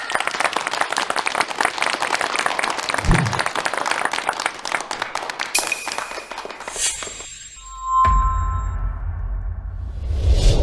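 Audience applause welcoming a businesswoman at a village investment meeting, a few seconds of steady clapping that gives way to chimes and a whooshing effect.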